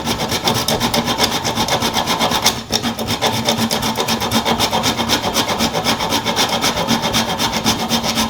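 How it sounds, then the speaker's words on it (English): Whole nutmeg is rubbed against a grater above a pot of Jamaican-style porridge, a loud, close, continuous rasping scrape in quick even strokes with a brief pause partway through. "I'm just gonna grate some nutmeg in the porridge"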